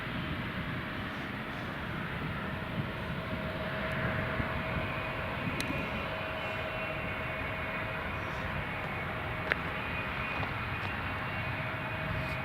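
Emirates airliner lining up on runway 07 at Newcastle International Airport, heard as a steady, moderately distant jet engine rumble and whine that continues throughout with no break.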